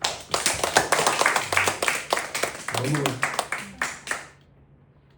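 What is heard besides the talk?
church congregation clapping to glorify God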